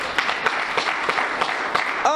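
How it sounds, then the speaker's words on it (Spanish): A church congregation gives applause during a sermon, with a steady run of scattered claps and a few louder bursts going on throughout. "Dale un aplauso al Todopoderoso."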